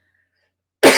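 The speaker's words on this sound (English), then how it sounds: "I'm going to start coughing a bunch" A person gives a single loud, close cough after about a second of silence, and the cough cuts off abruptly at the end.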